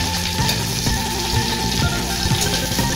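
Onions sizzling as they are stirred with a spatula in a frying pan, a continuous loud crackle with soft repeated scraping strokes of the spatula against the pan.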